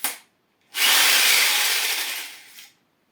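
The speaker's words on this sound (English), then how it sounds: "make a hole with drill this side" A power drill bores a hole in a furniture panel through a drilling jig, one continuous loud whirring burst of about two seconds after a brief short buzz, ending abruptly.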